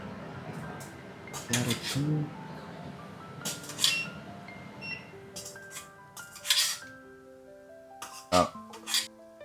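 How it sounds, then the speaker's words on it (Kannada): Steamed carrot, beans and paneer are moved into bowls, giving scattered clinks and scrapes of a spoon against metal dishes at an irregular pace, close and fairly crisp. "ಸೊ ಇದನ್ನು ಇವಾಗ ಒಂದೊಂದೇ ಬೌಲಿಗೆ ಟ್ರಾನ್ಸ್ಫರ್ ಮಾಡೋಣ"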